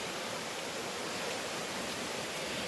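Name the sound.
forest stream flowing water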